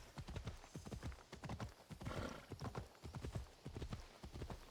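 Horse hooves galloping in the Assassin's Creed Odyssey video game, a fast rhythmic clip-clop of repeated hoofbeats with a brief whinny-like swell in the middle, fairly close and alone.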